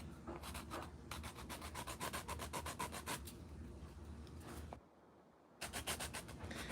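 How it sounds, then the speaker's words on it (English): Quick back-and-forth rasping strokes sand a small hump off the plastic barrel of a Dr. Grip pen, close and fairly quiet, with a brief pause before the rapid rubbing starts again. "Sand the little hump off."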